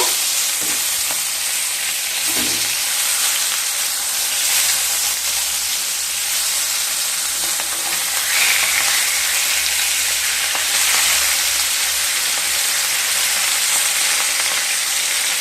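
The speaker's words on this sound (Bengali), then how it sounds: "এবার মাছগুলোকে ভেজে নেব" Rui fish frying in hot mustard oil in a pan, a loud continuous close sizzle and hiss that persists throughout, with occasional faint clinks and shifts in intensity.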